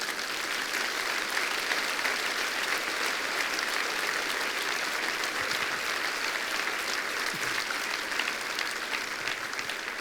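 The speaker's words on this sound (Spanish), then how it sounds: "¿Cuánto le dan un aplauso al Señor, hermanos?" A church conference congregation applauds, a sustained even wash of many hands clapping, loud and unbroken throughout.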